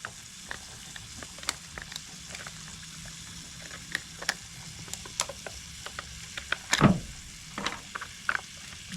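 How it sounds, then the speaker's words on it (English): Steak hisses and sizzles in hot butter in a pan on a Louisiana dock, a steady frying crackle with scattered pops and one louder hissing burst as the meat settles in. "Butter's rocking and rolling. Put the steak in there."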